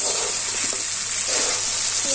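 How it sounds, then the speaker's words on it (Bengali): Meat fried and stirred with potatoes in a pot in a village kitchen, a steady close sizzle with a high hiss and soft scraping of the stirring. "মাংসটা ভালো করে কষাইতেছে। আলু দিয়ে দিতেছে মাংসের মধ্যে।"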